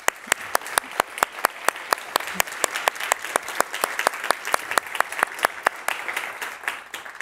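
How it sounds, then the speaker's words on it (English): Sustained applause from a climate conference audience, a dense wash of clapping with a few loud, regular claps standing out near the front, steady throughout. "Another warm applause."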